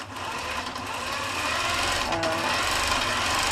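An I/S Turbo quilting sewing machine stitching, a steady fast mechanical whir and rattle close by that holds constant and grows slightly louder.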